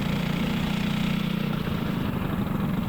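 A steady, loud LO206 racing kart engine drones close by at a constant pitch during a Masters heat, with a rough buzzing tone and no voices over it.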